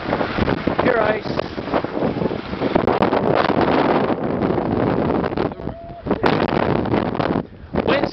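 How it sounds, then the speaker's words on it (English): Strong wind buffeting the microphone while skiing on icy slopes at Zermatt, a loud, continuous roaring gust noise with brief dips, with a person speaking over it. "Wind so strong it blows the poles out of you."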